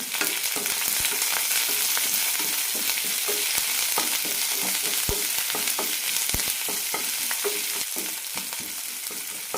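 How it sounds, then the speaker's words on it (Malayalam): Sliced onion and curry leaves sauté in a pan for banana flower curry, producing a continuous close sizzle with sharp crackles and regular stirring scrapes, without any voices. "ഇതിലേക്ക് സവാള ഇടാം കുറച്ച് കറിവേപ്പില നന്നായി വഴറ്റാം"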